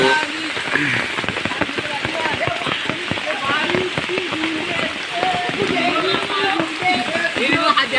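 Monsoon rain falling in a forest, a steady close patter on leaves and surfaces throughout, with people talking and laughing over it.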